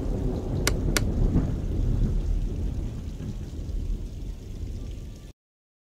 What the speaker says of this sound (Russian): Это просто гроза.